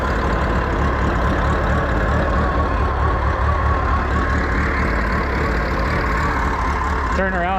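A Massey Ferguson skid steer's engine runs loud and steady throughout as the machine is slowly spun around, with a voice occasionally heard over it.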